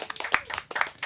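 Audience applause for guests on a talk show, a short burst of brisk clapping from a small crowd, close and fairly loud, with no talking over it.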